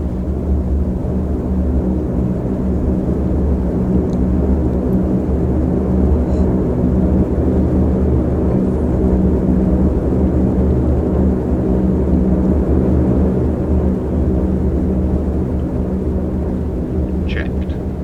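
A simulated airliner's engines idle and whir while taxiing in Microsoft Flight Simulator 2020, a steady, dense low rumble that holds level throughout with only faint clicks above it.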